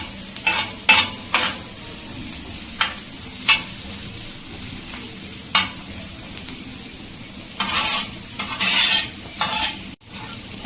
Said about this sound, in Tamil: ஆனியன் வந்து வதங்கி வருது பாருங்கள் இது போல் வதங்கி வரணும்